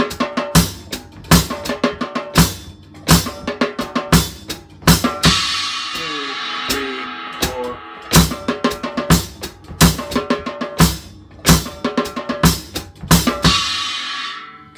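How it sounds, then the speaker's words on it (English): Drums playing a slow double paradiddle fill in 4/4 on the snare, with crisp, evenly spaced strokes set within a steady beat that repeats in bars, close and loud with no voices. "Slowly, it sounds like this on the snare drum."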